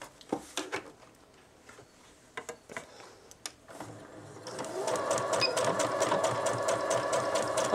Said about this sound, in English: we are going to sew all the way around this to close it off